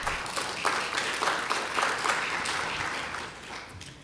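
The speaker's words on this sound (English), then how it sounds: "We can clap about that." An audience claps at a law enforcement agency's public talk, a short burst of dense, mid-sized applause that swells briefly and then fades over a few seconds, with no voices over it.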